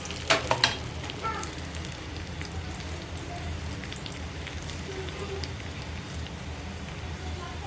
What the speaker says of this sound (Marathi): लसूण छान असा गोल्डन ब्राऊन होईपर्यंत आपल्याला फ्राय करून घ्यायचा.